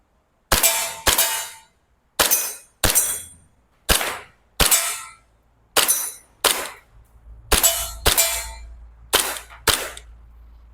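An Army R614 BB gun pistol fires at targets about ten metres away: a dozen or so sharp, loud cracks, mostly in quick pairs with short gaps, each followed by a brief ringing tail, and no talk.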